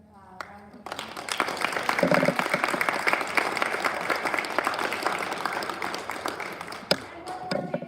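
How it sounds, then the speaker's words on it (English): Audience applause at a speech showcase, a dense burst of clapping that swells quickly and holds steady for several seconds before tapering, with a few voices mixed in. "We just get another round of applause."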